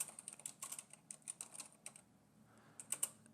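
Code is typed on a computer keyboard in fast, close, quiet bursts of clattering keystrokes. A short pause falls in the middle before a few final taps, with no voices.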